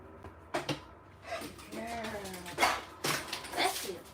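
A dog's faint whimpering yelps and a few distant barks from outside in the woods, mixed with indoor movement sounds, with people talking nearby.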